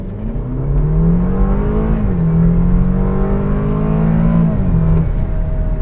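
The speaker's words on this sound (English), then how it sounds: "as you notice, yeah, it's hanging in that higher RPM range a little bit longer" BMW 328 engine under acceleration, a loud continuous drone held at high revs, with pitch climbing, levelling off and dipping briefly near the end, close up with no talking.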